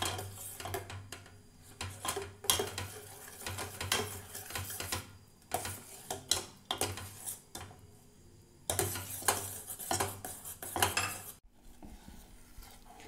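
Bread pieces are stirred into thickened milk in a pan for a caramel bread pudding, with steady close scraping and clinking of a spoon against the pan in repeated bursts, then a brief quieter pause near the end.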